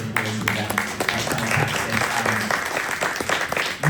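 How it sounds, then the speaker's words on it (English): Audience at a church feast evening applauding the volunteers who served food and drink, a steady ripple of clapping filling the hall for several seconds. "Yes, a ripple of applause for them."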